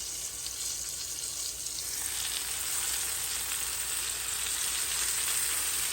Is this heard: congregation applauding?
no